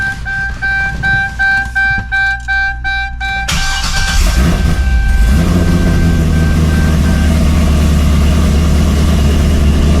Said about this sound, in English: turn the car on while it's on jack stands, and get down and see if I can see or hear anything